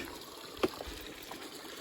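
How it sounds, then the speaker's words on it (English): A wide river runs over loose rocks amid green woodland on the Appalachian Trail, giving a steady, moderately close trickling babble with one brief splash. "I also like having the flowing river"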